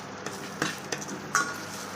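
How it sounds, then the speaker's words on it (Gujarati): Tomatoes cook in a pan for a chole gravy, giving a soft, quiet sizzle with a few light stirring scrapes, alone without any talk. "હવે એને થોડીક વાર આપણે પકવી લઈ ટમેટાને."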